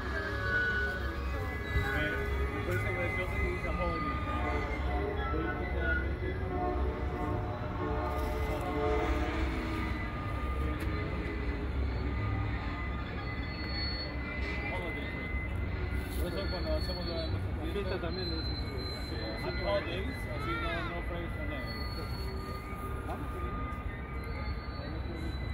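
A long, steady rumble of the CPKC Holiday Train passing at Montreal West station at night, continuous and fairly loud throughout, with screeching wheel squeals rising now and then.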